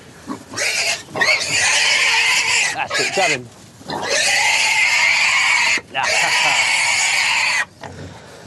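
Pigs grunt and oink loudly in a farmyard contest, with dense, near squealing noise filling most of the stretch in long bursts broken by short pauses, while someone speaks briefly over it.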